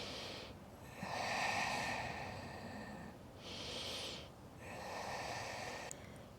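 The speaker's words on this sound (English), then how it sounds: "Continue breathe." Slow, deep breathing during a slow yoga flow for core strength, with long audible inhales and exhales close to the mic in an even rhythm, alone without talk.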